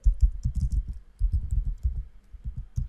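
Quick, close typing on a computer keyboard, a fast run of soft thumping key presses in short bursts with brief pauses, heard on its own with no talking.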